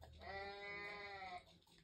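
A goat in the Goat Simulator video game gives one drawn-out, wavering bleat lasting over a second, loud and close, with no talk over it.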